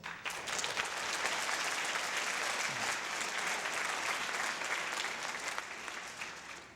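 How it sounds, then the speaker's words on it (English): Graduating high school students at an IB banquet break into sustained applause, a dense, even wash of clapping that holds steady before easing off at the end. "Give yourselves a round of applause."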